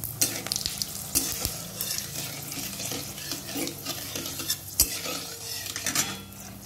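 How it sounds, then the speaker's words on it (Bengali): Cumin, bay leaf and dried red chilli tempering in hot oil in a kadai, with a crackling sizzle broken by frequent spoon stirs and scrapes against the pan. "কড়াইতে তেল দিয়ে দিয়েছি, আগে থেকে জিরা ফোড়ন দিয়ে দেব, তেজপাতা দিয়ে দেব, শুকনো লঙ্কা দিয়ে দেব"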